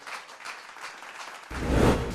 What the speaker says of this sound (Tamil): முதல்ல அன்றைக்கு ஈகை அப்படின்னு வர்ஷா தொடங்குறாங்க ஒரு உற்சாகமான கைத்தட்டல்களோடு